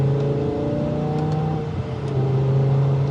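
A BMW M5's V10 engine revs hard under acceleration during a gear pull, a loud, close, steady mechanical drone with a brief dip at a gear change before climbing again.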